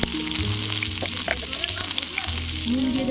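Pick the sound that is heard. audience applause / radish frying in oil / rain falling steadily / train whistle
radish frying in oil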